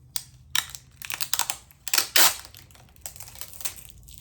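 Packing tape is wrestled onto a parcel being wrapped for shipping, giving close, loud bursts of crinkling, tearing and sticky crackling in an uneven rhythm of quick rustles and scrapes.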